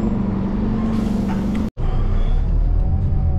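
Bus 361 pulling up at a stop at night in New Zealand, a loud close engine rumble with a brief cut partway through, then continuing as it draws in.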